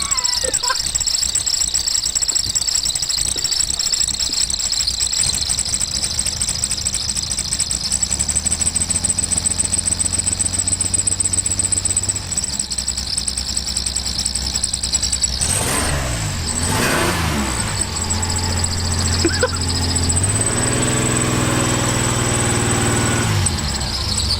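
A car engine idles with whistles fitted, giving a continuous high, thin squealing whistle over a low steady engine hum, with a brief revving swell partway through and people talking faintly nearby.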